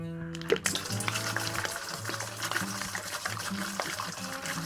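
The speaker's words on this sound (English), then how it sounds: "As I'm pouring this, I'm aerating it, getting oxygen right through the whole system." Fresh oatmeal stout wort splashes and gurgles as it is poured hard into a fermenter for aeration, a steady liquid rush with a sharp splash near the start, heard under ongoing talk.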